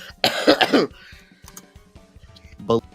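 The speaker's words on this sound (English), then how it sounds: "I have to cough." Harsh, close coughing in a quick burst of several hacks, followed by quieter clicks and a brief voice near the end.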